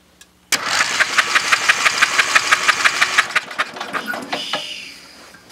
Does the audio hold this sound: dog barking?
no